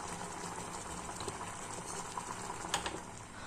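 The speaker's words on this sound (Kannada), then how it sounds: "ಈ ಕಡೆ ತಗೊಂಡಿರುವಂತಹ ಸಬ್ಬಕ್ಕಿ ಕುದಿದಿದೆ ನೋಡಿ." Sago pearls boil in a pot on the stove, a steady close bubbling and popping wash with small clicks, no talking.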